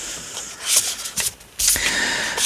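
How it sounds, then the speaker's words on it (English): A deck of tarot cards is shuffled up close in several riffling bursts, with crisp papery flutters and snaps separated by short pauses, and a longer steady shuffle toward the end. "I really like shuffling them, which seems like a strange reason to like a deck of cards"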